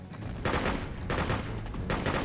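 Gunfire in the Freedom Fighters video game comes in three loud, close bursts of rapid automatic shots, separated by short gaps filled with a lower battle rumble.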